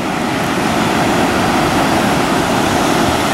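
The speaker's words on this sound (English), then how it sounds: "I hope you can hear me over the din of the tide here, the great Pacific Ocean" Pacific Ocean surf breaking at a beach as the tide comes in, a loud, steady roar of crashing waves with constant wash and no pauses, heard up close and alone.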